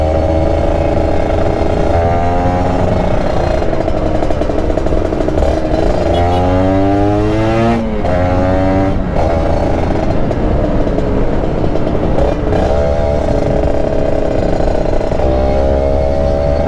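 A ported Kawasaki Ninja RR two-stroke motorcycle on a test ride, engine loud and close, revving up and down through repeated rising and falling sweeps with brief throttle-off dips, no talking.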